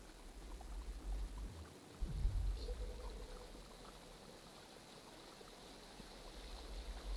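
Water flowing in the video game INSIDE, a low steady stream with a brief surge of rushing and gurgling partway through, fairly quiet and continuous with no talk.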